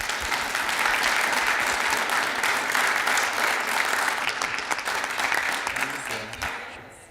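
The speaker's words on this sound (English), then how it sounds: "Let's give him a round of applause." A town council meeting audience applauds Jeff Graves, dense sustained clapping from a roomful of people that holds steady for several seconds, then thins out and fades as a voice begins near the end.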